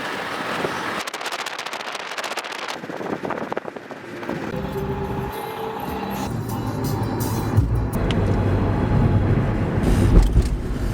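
Steady engine and road rumble from inside a moving car driving through Chicago, a thin broadband hiss at first that settles into a fuller low drone, with no talking.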